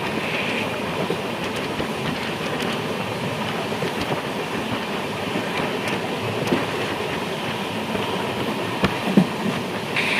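An Ernakulam-Velankanni Express rolls along steadily, a continuous rumble of wheels and carriages with a faint clickety-clack, heard up close and alone throughout.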